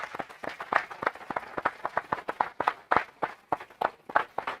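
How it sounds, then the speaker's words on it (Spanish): A small audience at an annual economics convention claps for two panelists. The claps are individually distinct and come in a fairly quick, uneven rhythm at moderate loudness, with no voices over them. "Pido un aplauso para los dos."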